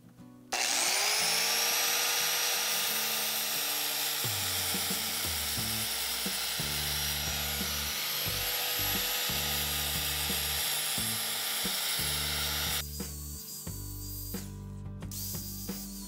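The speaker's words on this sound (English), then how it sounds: "But we have the angle grinder here" An angle grinder cuts through wire while building a chicken coop from reclaimed lumber, giving a loud, sustained high whine that runs for about twelve seconds with shifting load, then stops abruptly.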